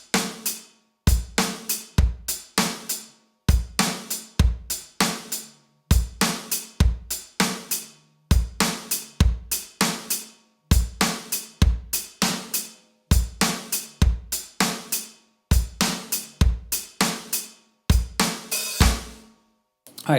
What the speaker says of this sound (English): So here's just upbeats on the hi-hat